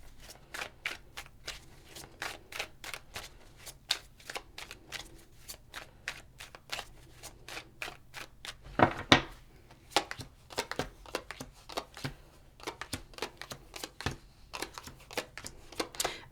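Tarot cards being shuffled and drawn from a deck, a long series of quick, close riffling snaps and soft card flicks with short gaps, quiet and alone without talk.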